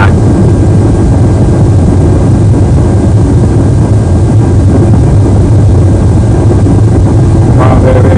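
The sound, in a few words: airliner jet engines at takeoff power on runway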